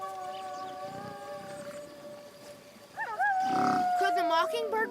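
A cartoon mockingbird on the prairie imitates a wolf howl, a bird voice mimicking the animal: long sustained wavering tones that rise and bend, then a louder, more warbling stretch toward the end over a faint background.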